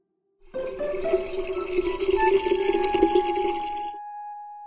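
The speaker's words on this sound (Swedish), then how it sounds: "Det är en vattenkanna med vatten i." Cartoon watering can full of water pouring a steady stream for about three and a half seconds, a bright trickling splash that starts suddenly and cuts off cleanly, with no talk over it.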